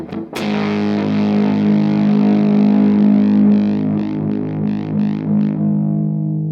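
A heavily distorted electric guitar chord through a Mythos Hephaestus variable-voltage fuzz pedal at lowered voltage rings out and sustains, wavering and sputtering with uneven, gated dips as it fades.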